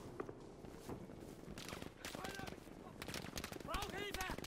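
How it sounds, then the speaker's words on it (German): Rapid gunfire from the WWII shooter Battlefield V, bursts and single shots crackling throughout alongside footsteps and game effects, with players' voices talking over the action. "Schießen hier schon von der linken Seite, schießen von B."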